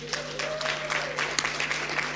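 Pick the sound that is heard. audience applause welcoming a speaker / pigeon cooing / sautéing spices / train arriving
audience applause welcoming a speaker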